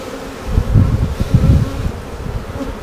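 Honeybees drone loudly and close during a hive inspection, a dense low buzz that swells and fades, with faint rustling from the frames.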